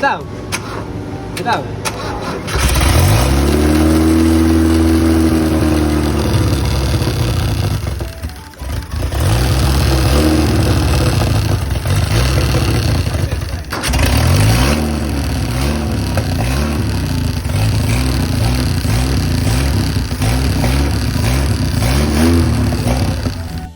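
A repaired engine that still misfires cranks and starts, revving loudly in uneven, stumbling bursts with choppy, irregular pulses and a few drops in speed, while people talk over it.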